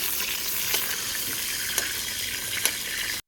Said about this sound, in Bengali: গরম হয়ে গেছে, এবার আমি শাহি জিরা দিয়ে দেব, তেজপাতা দিয়ে দেব, দুটো শুকনো লঙ্কা দিয়ে দেব।